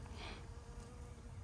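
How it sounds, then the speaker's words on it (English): A steady insect buzz hums throughout, low and continuous, with no voices, like bees busy around flowers nearby. "Look at all those bees."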